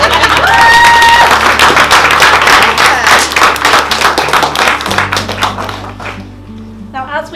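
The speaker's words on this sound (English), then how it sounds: "Round of applause for the ring." Wedding guests burst into loud, sustained applause and some cheering, a dense wash of clapping that carries for several seconds before thinning out, with a few voices talking underneath.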